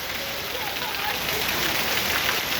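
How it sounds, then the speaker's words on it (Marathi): A dense, steady roar of heavy cloudburst rain in Purna taluka, Parbhani district, Maharashtra, loud and unbroken throughout, with no pauses or distinct drops standing out. "अतिवृष्टी ढगफुटीचं दृश्य एक तास चळकधार पाऊस"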